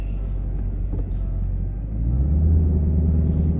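A manual-transmission car engine hums steadily from inside the cabin while driving, a low continuous rumble that deepens and grows louder partway through as the car pulls harder.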